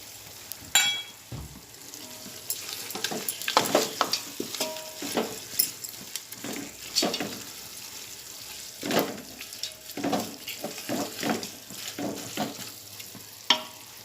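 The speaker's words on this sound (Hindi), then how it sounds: "अब मैं इसमें तेज़पत्ता और थोड़े से बादाम" Bay leaves and almonds sizzle in hot oil in a home kitchen for mutton biryani, a steady close crackle broken by scraping stirs and clinks of a utensil against the pan, with no talking.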